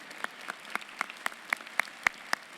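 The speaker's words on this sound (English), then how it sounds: "let's all give them a round of applause for their incredible work over the years." Sparse, rhythmic clapping at a university Founders Day convocation, honoring returning Fulbright scholars: about a dozen evenly spaced, fairly close claps roughly a quarter-second apart, quiet and alone with no talk.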